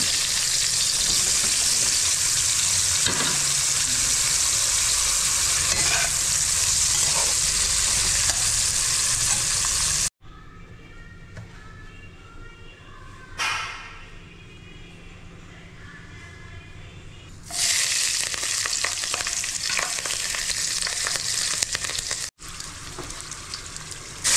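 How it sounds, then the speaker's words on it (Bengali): Potatoes with salt and turmeric fry in hot oil in a wok, giving a loud, steady, dense sizzle that drops away for several seconds and then returns at full strength. "কড়াইতে তেল গরম হয়ে গেলে প্রথমে আলুগুলো নুন হলুদ দিয়ে ভালো করে ভেজে নিলাম।"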